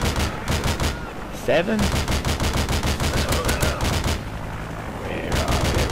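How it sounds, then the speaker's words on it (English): Rapid bursts of automatic gunfire from the video game Modern Warfare 2, in a team deathmatch on the Strike map, crackle loud and nearly nonstop, with a voice speaking briefly over the shooting. "Now I'm gonna shoot myself."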